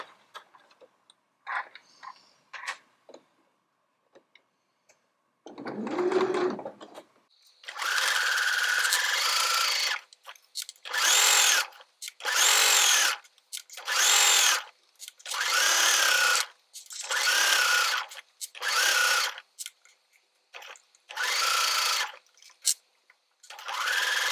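Domestic sewing machine stitching down hoodie fabric at a 3mm stitch length, running in about ten steady bursts of whirring stitches separated by short pauses, close and clear, after a few light handling clicks.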